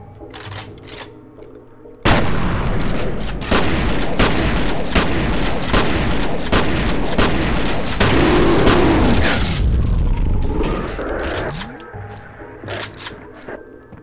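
Dense, sustained gunfire with booming blasts and rapid shots during slowed bullet time in the shooter game F.E.A.R., loud and continuous for about seven seconds, then tapering into scattered shots and mechanical clanks.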